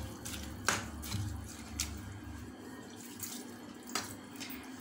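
Water is poured from a small vessel into a pot of drumstick leaves and stems for murungai keerai soup, a soft, fairly quiet splashing stream with a few small clinks, no talking.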